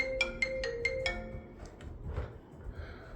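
A mobile phone ringtone plays in a room: five quick repeating electronic tones in a steady rhythm, then a softer tail of faint tones fading under background noise.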